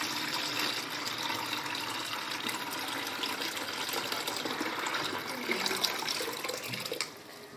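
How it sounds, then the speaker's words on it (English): Dirty water pours through a clean white sieving cloth into a bucket in a steady, close, continuous splashing stream that thins out near the end. "You can see I'm pouring it."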